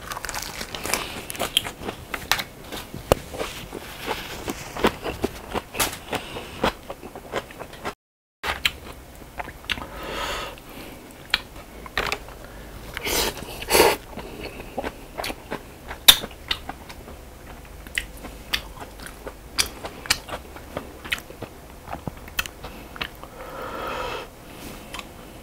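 Close, wet chewing and crunching of a pork trotter (jokbal) wrap with garlic, steady bites and mastication sounds at a near microphone with little talk.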